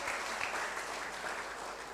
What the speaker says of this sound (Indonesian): Kasih tepuk tangan sekali lagi buat Om Samuel